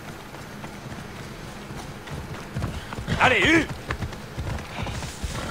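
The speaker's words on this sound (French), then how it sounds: "Et on va appeler le cheval." Galloping horse hooves in Assassin's Creed Odyssey, a quick run of clip-clop beats under a short spoken call to the horse and game ambience.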